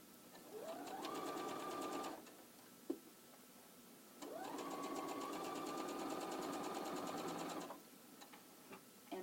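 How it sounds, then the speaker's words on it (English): A sewing machine stitches quilt binding with a shortened stitch length of 2.0, running in two steady bursts of rapid, whirring mechanical stitching separated by a short pause, close and alone. "we're just going to sew directly onto that line"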